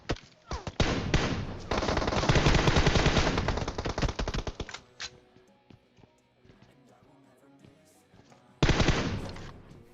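Sustained automatic-rifle spray in the mobile battle-royale game PUBG Mobile: a dense, loud burst of rapid shots lasting several seconds, a few scattered single shots, then another short burst at the end.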